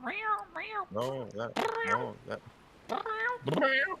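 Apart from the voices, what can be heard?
pet cat meowing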